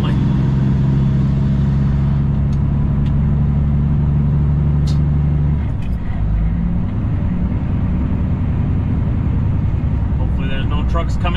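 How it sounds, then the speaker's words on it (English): Truck engine idling loudly nearby on a hot day with its cooling fan running, a constant deep drone that shifts in pitch midway, with a few faint clicks and knocks. "Man, it's so warm outside, my engine fan almost runs constantly."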